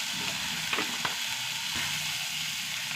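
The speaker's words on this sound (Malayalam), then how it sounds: "ഉള്ളി മഞ്ഞപ്പൊടി ഇട്ട് കൊടുക്കുക." Onion and turmeric powder frying in a pan produce a soft, even sizzle with a few faint stirring taps, nobody speaking.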